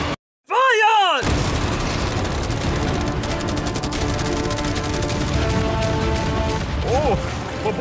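Rapid, dense bursts of fire from many machine guns and about a hundred cannons pour out loud and continuously, following a short whooshing, swooping sound and a brief silence.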